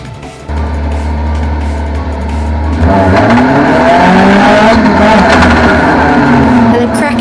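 Race cars launch at the start of a race at Yarmouth Stadium, engines roaring loud and close, revs climbing sharply after a few seconds into a dense, sustained howl as the pack pulls away.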